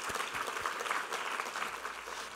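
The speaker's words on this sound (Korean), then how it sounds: "우리 하나님께 감사와 영광의 박수 올려드리겠습니다" A church congregation claps together during a worship service, a brief burst of steady, dense applause without speech.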